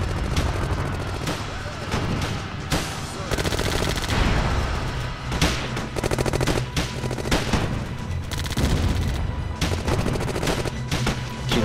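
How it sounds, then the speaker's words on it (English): Infantry in the Theatre of War video game fire on a half-track: sustained rattling machine-gun bursts mixed with single rifle shots and heavier booms, loud and overlapping in a dense battle din with no pauses. "my guys are firing at that half track"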